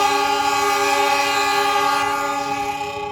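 A CC 206 diesel locomotive arriving at a workshop, a loud, close, steady horn blast with a rich chord of tones over engine rumble, sustained for several seconds before easing off slightly.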